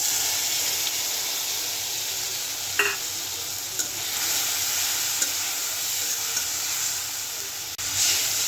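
Spice paste mixed with water frying in a pan for a spicy jackfruit and potato curry, a continuous bright sizzling hiss with occasional soft clicks of a spoon, close and steady throughout.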